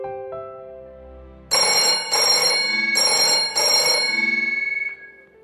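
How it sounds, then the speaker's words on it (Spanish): Telephone ringing in four loud, evenly spaced electronic bursts after a brief quiet start, close and alone with no talk. "Llamo por teléfono."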